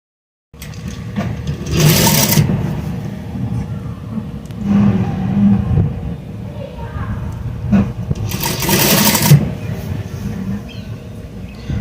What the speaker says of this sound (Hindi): यहाँ पे आके अपनी सिलाई रिपीट कर लेनी है ताकि सिलाई पक्की लगे